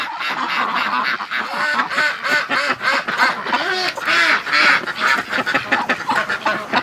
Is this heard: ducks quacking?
yes